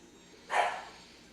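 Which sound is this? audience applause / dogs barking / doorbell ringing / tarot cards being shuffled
dogs barking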